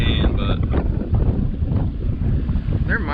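Strong wind buffets the microphone on a boat out on a lake, a loud low rumbling roar with gusty swells throughout, and a voice talks faintly underneath.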